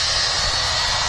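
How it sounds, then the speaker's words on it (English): A Jet2 Airbus A330 with Rolls-Royce RB211 engines taxis past at Manchester Airport, a steady, loud broadband jet roar with a bright whine, continuous and close. "You can just hear the wonderful sound of the RB211s as the Jet2 A330 taxis past us."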